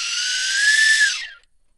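An ultrasonic dog whistle recording played back pitched down 80%: a breathy, airy whistle tone, slightly rising and then fading out, like air blown through a narrow tube, followed by silence.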